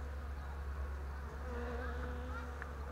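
Honey bees in a beehive buzz steadily around the frames, a close, continuous hum with individual bees droning past at shifting pitches.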